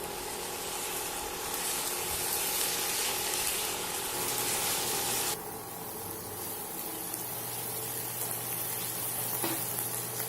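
Paneer pieces sizzling and frying in a hot pan while being mixed, a steady loud hiss throughout that drops slightly partway, with faint clatter and no talking.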